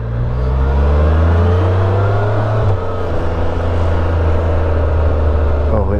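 A Can-Am Canyon three-wheel motorcycle engine hums steadily at close range while riding a parking lot, a low droning tone that holds even for the whole stretch, with a slight pitch shift midway and a brief rise at the end.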